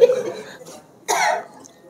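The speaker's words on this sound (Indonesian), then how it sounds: "Jangan batuk-batuk lagi." Two short, harsh coughs, separated by a brief pause, close to the listener with no speech around them.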